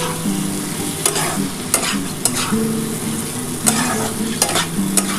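Spice paste frying and being stirred in oil in a pan for a Bengali katla fish head and potato curry, with a continuous sizzle and repeated scraping strokes of the spoon against the pan, close and steady, with no talk.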